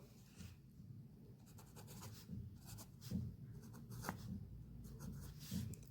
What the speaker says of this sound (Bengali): প্রত্যেকটা যে অঙ্ক আছে আপনাদেরকে এখানে লিখে দেখিয়ে দিচ্ছি।